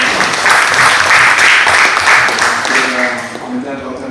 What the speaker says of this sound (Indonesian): Mari kita beri aplaus untuk Pak Gubernur.